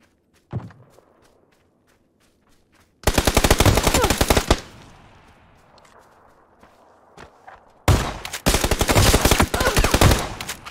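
Gunshots in PUBG: a lone shot, then a rapid burst of loud, sharp automatic fire, a quieter lull with scattered pops, and another close, intense burst near the end.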